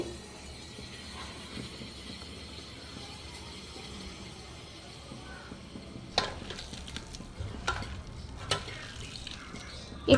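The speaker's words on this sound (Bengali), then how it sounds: "চটকে চটকে হাতের সাহায্যেই ভালো করে মাখবেন" Cabbage pakora mixture with mustard oil kneaded and squeezed by hand in a bowl, a soft quiet squelching that turns into louder wet squishes and knocks in the second half.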